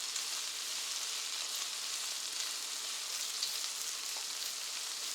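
Slices of eggplant fry in a pan for Afghani burani banjan, giving a continuous, even sizzling hiss throughout at moderate volume, with no voices.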